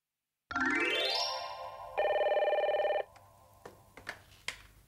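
A telephone rings in an office, a bright electronic ringtone with a rising chime that holds steady and then steps down, followed by a few soft clicks and knocks as the receiver is picked up.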